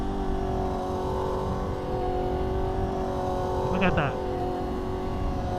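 A lowered Honda CBR650R with new clip-ons ridden through corners, its engine a steady close drone under wind noise, with a brief rising-and-falling whine of a passing vehicle; a voice speaks briefly.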